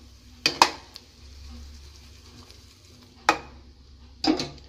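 Tempering stirred into kara pongal in a pot, a few sharp clanks of a spoon against the metal rim spaced apart, with a soft low background between strikes and no voices.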